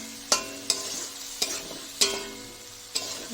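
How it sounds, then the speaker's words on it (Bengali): Spice paste with onion and garlic frying in a pan with taro and potato for a fish curry, with steady sizzling and five or six sharp scrapes of a spatula stirring at an uneven rhythm, close up. "মশলাটা কষিয়ে নিই"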